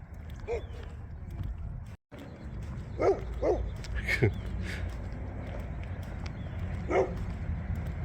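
Several dogs bark in short, separate yips and woofs at a moderate distance in a suburban neighborhood, with a person talking nearby in between.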